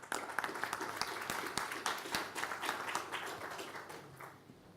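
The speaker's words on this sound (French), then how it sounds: "Sous vos applaudissements." A conference audience applauds a speaker at a finance event, a moderately dense round of clapping with distinct sharp claps that gradually thins and fades toward the end.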